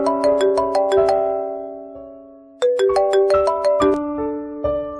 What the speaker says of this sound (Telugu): బాను ఫోన్ చేశాడు, వస్తారా?